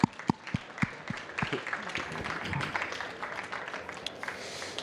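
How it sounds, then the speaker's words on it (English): Conference audience applauding as speakers are welcomed on stage: scattered claps at first that swell into steady, moderately loud clapping throughout, with no voices over it. "A little bit of applause, please"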